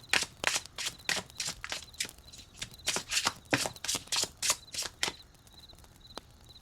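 A deck of tarot cards is shuffled and cards are drawn, giving a rapid run of crisp riffling bursts in a steady rhythm that slows and fades toward the end, close and clear with no talking.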